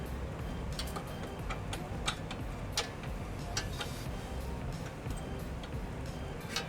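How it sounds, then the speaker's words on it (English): A ratchet with a 17mm socket is turned on the bolts of a trailer hitch being fitted to a 2018 Hyundai Santa Fe Sport. It gives off a scattering of sharp, irregular clicks over a steady low background rumble. "I'm just using a socket, 17mm socket, just to get a little bit more leverage on my turns here."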